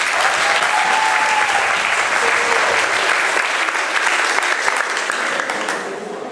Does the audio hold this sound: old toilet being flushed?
no